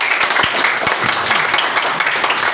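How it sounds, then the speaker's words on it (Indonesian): A church congregation claps together during a Pentecostal worship service, with dense, steady applause filling the room for a couple of seconds and no speech over it. "Beri tepuk tangan buat Tuhan Yesus."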